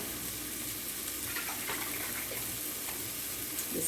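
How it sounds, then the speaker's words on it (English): Vegetable broth is poured into a hot pan to deglaze it, giving a steady, close hissing sizzle with a watery rushing quality that persists throughout. "I'm going to pour in a little bit of vegetable broth to deglaze my pan."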